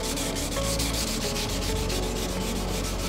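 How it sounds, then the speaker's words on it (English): Wet sanding of primer on a scratched, gutter-rashed wheel with 800 grit wet sandpaper and sprayed water, a steady loud rhythmic rubbing with repeated strokes, close up and without talk. "I can start sanding it with my 800 grit wet sandpaper, spray some water on there"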